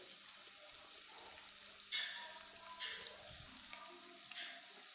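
Chopped ginger and garlic sizzle in a hot frying pan, a steady hiss with a few brighter crackling bursts as the food is stirred, quiet and close with no talking.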